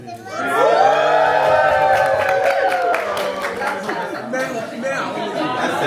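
Guests at a baby shower game cheer and whoop together in a loud, sustained crowd roar that fades into mixed chatter and voices.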